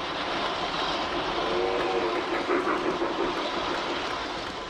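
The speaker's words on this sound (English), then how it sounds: "I love the sounds of the other trains as they pass Emily on the layout." Model trains rumble steadily along the track of a layout nearby, a continuous whirring clatter that swells slightly as they pass.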